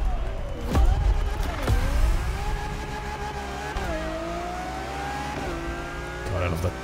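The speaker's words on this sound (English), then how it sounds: "Big, shouty V12s." A Lamborghini V12 in The Crew Motorfest revs and shifts up through the gears, the engine rising repeatedly in pitch between changes, a loud steady drone with someone talking over it.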